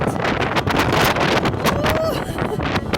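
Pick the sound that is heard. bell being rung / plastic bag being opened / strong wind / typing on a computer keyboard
strong wind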